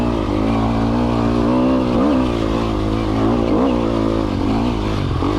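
A 2020 Sherco 300 SEF Factory dirt bike engine drones steadily and loudly close up as it is ridden, its pitch wavering with small throttle changes.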